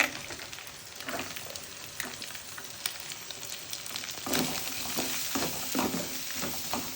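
Chopped carrots sizzle and fry in a pan with egg noodles, a steady crackling hiss with occasional stirring scrapes, close and fairly loud throughout.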